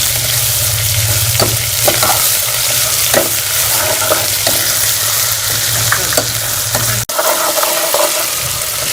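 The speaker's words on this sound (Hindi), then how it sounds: "इसको भी 1 से 2 मिनट प्याज के साथ हम फ्राई कर लेंगे।" Steady, close sizzling of onions and garlic-ginger paste frying in a pan, with occasional stirring clatter and a low hum underneath, briefly cutting out near the end.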